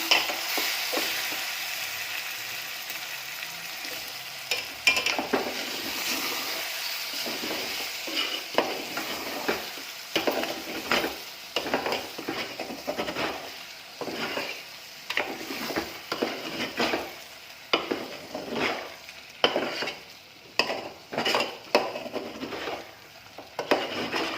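A chicken tomato gravy with masala is stirred in a pan, with repeated scraping strokes of the spoon over a continuous soft sizzle, close up and fairly rhythmic throughout.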